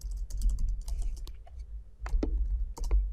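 Keys on a computer keyboard clatter in two quick bursts of typing, close and crisp with a short pause between them.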